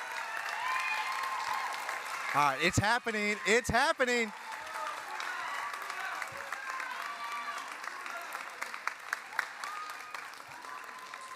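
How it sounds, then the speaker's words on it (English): A crowd claps and cheers for high school graduates at a class of 2021 ceremony, with sustained applause and a few whoops, while someone speaks over the noise near the start. "Let's give a little clap and cheer for them right now"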